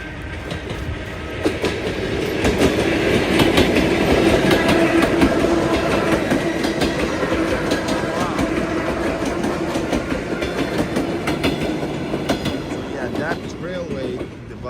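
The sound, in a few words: train passing by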